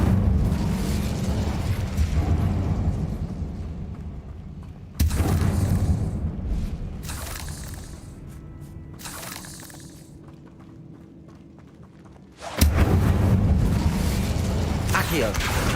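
Incendio fire spell cast in the Hogwarts Legacy video game, heard as loud bursting whooshes and booms that cut in sharply at a few points, with speech running alongside.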